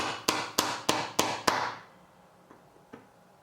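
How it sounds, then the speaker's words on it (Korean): The rubber head of a mini hammer taps a magnet on a flat blade into a hole in a wooden balancing shelf kit: five evenly spaced, close, sharp knocks, then two fainter taps after a short pause. "미니망치의 고무 부분으로 톡톡톡 두들겨주면"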